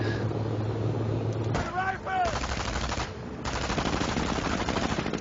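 Bursts of machine-gun fire rattle through a battle in a strategy game, dense repeated shots over a low rumble of vehicles, with a short lull midway before the firing resumes.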